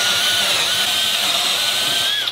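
Milwaukee M12 4-in-1 installation drill driver boring through a board with a Forstner bit, a loud close steady high whine of the motor under load, sagging in pitch slightly before easing off at the end.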